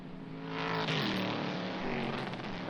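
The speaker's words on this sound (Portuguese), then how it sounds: "E aí o carro do Felipe Maluí" A 2004 Stock Car race car at the Curitiba circuit roars past on track, its engine note swelling loud and sustained with a shifting pitch as it goes by.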